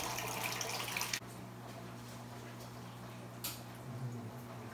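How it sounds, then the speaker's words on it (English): Water pours into an aquarium to top it off, a loud splashing stream that cuts off abruptly after about a second, leaving a quiet filter hum with a brief trickle later. "Actually, I need to top off the water."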